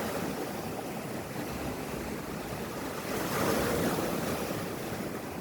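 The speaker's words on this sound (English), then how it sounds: "But suddenly the storm started." Storm waves surge and crash at sea in a steady, loud roar of surf with gusting wind, swelling briefly louder near the middle before settling back.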